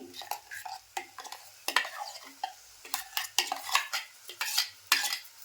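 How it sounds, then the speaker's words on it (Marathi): Masala paste for a Malvani-style prawn curry being stirred in a pan, with frequent scraping strokes of the spoon in an uneven rhythm over a light frying sizzle, close and fairly loud. "असं व्यवस्थित परतून घ्यायचं जरा दोन तीन मिनिट"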